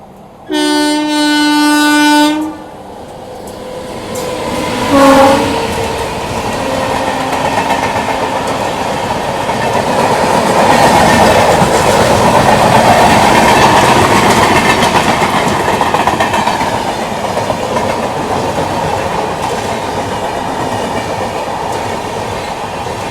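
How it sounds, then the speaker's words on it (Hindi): Chennai–Santragachi AC Express speeding past on the adjacent line to overtake a train halted on a station loop line, opening with a loud horn blast, then a sustained roar of rolling wagons and rail clatter that builds and holds close by. "अभी आ गई है चेन्नई संतरागची AC एक्सप्रेस।"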